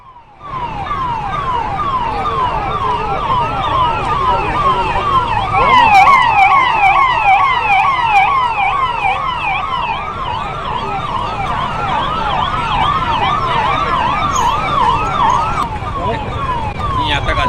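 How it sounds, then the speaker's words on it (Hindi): Fire brigade sirens wail loudly and continuously at a seeds factory fire in Madhya Pradesh, several overlapping sweeping tones holding steady close by with road traffic noise underneath. "दमकल विभाग मौके पर पहुंचा हुआ है।"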